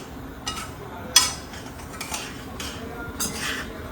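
Ingredients being mixed by hand in a bowl during festive holiday cooking, with a spoon scraping and clinking against the bowl in short irregular strokes, one sharper clink standing out, close and moderately loud.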